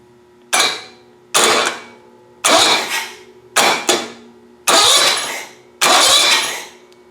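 A John Deere Hydro 165 garden tractor's starter solenoid being jumped: six loud, sharp bursts in a row, each cutting in abruptly and fading within about half a second, with brief quiet gaps between them and no talking.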